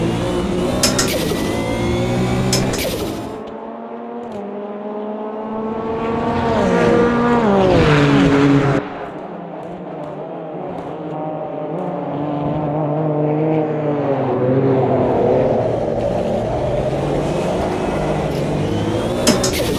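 A Porsche race car engine in a racing video game, driven with a sequential shifter near the Wall of Champions, revs high and drops with each gear change, loud and sustained with a brief lull before climbing again.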